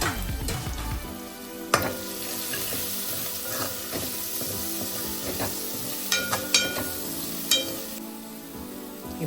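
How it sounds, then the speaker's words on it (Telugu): Curry leaves and coriander sizzle and crackle steadily as they fry in a pan, with occasional scrapes and clinks of stirring and a few sharp pops over a constant hiss. "కరివేపాకు, కొత్తిమీర వేసుకొని బాగా కలుపుకోవాలి."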